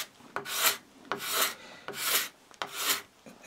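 Card scraper with a turned burr scraping across a wooden board, four rhythmic rasping strokes of about half a second each, close and fairly loud, with short pauses between them.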